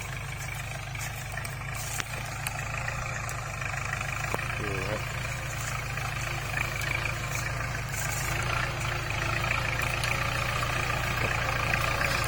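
A Kubota L5018 tractor engine works a cassava field with a disc plough, a steady low rumbling drone that holds constant and close throughout, with someone talking over it.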